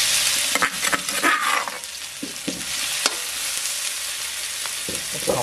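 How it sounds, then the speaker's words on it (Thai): Chinese kale with crispy pork is stir-fried in a pan, giving loud continuous sizzling with repeated scraping and clanking from stirring the wok, and no talking. "ตั้งกระทะใหม่ต่อเลยบ่อยผัดคะน้าหมูกรอบ"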